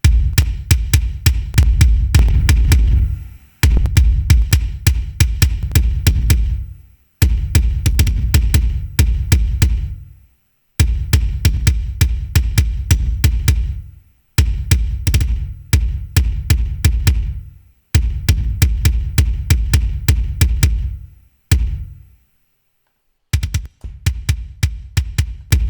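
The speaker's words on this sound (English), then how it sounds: "We have both kick and snare distortion here." A distorted metal kick drum processed through an STL Tones ControlHub plugin, played as fast, punchy repeated hits in bursts of a few seconds, separated by short silent gaps.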